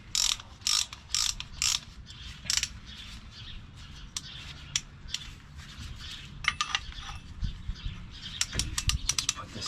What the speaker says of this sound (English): Basically a ratchet with 2 plates on it. Makes opening these calipers up for your new pads a lot easier.